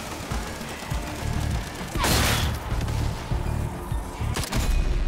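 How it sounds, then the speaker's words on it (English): A grenade going off in the Zombie Army 4 video game, one sharp blast and crash rising out of scattered gunfire and game noise, followed by more shots and a second sharp hit near the end. "there's a grenade."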